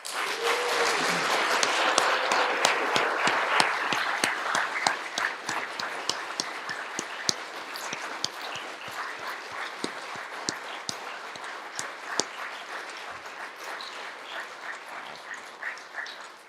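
A standing audience applauds Eagle Scouts at a troop Court of Honor: loud, dense clapping at first that thins into scattered individual claps over the following seconds.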